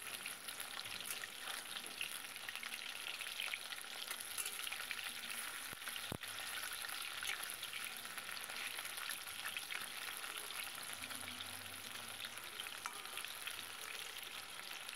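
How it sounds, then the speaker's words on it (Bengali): Chicken pieces frying in refined oil in a wok, a constant bright sizzle and crackle with occasional spits and pops, close and continuous throughout with no talking. "এবার রিফাইন তেল দিয়েছি, এক এক করে চিকেনের টুকরোগুলো দিয়ে দিচ্ছি।"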